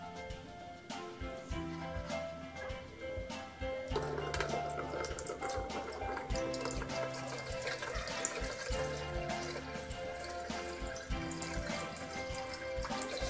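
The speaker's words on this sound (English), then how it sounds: "So now let's start pouring water in it to demonstrate as the water level rising." Water pours steadily into a dam water-level model, a continuous splashing trickle with dripping, louder after the first few seconds, with music playing in the background.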